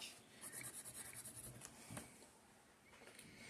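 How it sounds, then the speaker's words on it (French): Felt-tip marker scribbling quickly across paper, a soft, continuous scratchy rubbing with rapid back-and-forth strokes, faint and close, no voices. "je vais un petit peu colorier vite fait d'un seul côté comme ça"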